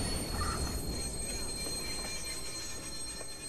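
An L train pulls into a station in the Watch Dogs video game, giving a steady, fairly loud rumble of rolling rail cars that carries on evenly throughout.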